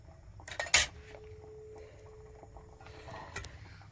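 A metal lid clatters onto a pot of egg curry in a home kitchen, one sharp clink followed by quieter knocks, with a faint steady simmer and a thin tone underneath.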